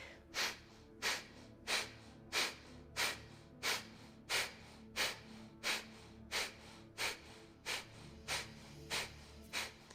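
Deep belly breathing during a yoga session: a steady series of about fifteen forceful nasal exhalations in a regular rhythm, roughly one every two-thirds of a second, close and clear with no talk.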